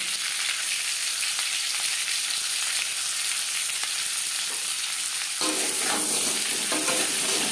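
Potatoes fry with salt and turmeric in hot oil for a mutton and potato curry, giving a loud, continuous sizzle that swells and turns brighter partway through as they are stirred.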